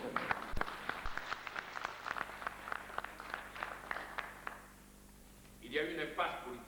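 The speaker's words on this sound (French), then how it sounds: "Et de tout cœur, je vous applaudis" Audience applause rises in scattered, irregular claps that thin out midway, fading to quiet before a voice begins speaking near the end.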